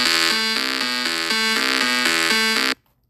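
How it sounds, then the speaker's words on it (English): Emergency Alert System alarm from Senegal: a loud, steady harmonic electronic tone stepping between two alternating pitches in a rapid repeating pattern, sounding alone for under three seconds before cutting off abruptly into silence. "Today we're going to be reacting to more EAS alarms"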